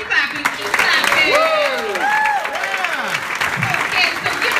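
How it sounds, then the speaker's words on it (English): A comedy club audience in Toronto applauds loudly and steadily, dense clapping mixed with cheers and whoops, while a voice talks over the noise. "Keep clapping. Keep clapping."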